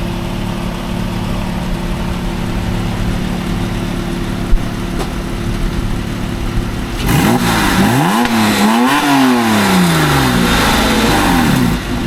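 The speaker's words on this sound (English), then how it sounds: "we have the bumper and exhaust on the 911. Can we hear it?" A Porsche 911 idles with a low steady drone, then its center-exit exhaust on a GT3 rear bumper suddenly opens up into loud revving, rising and falling through several throttle blips.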